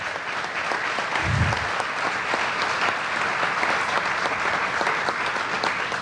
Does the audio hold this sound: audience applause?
yes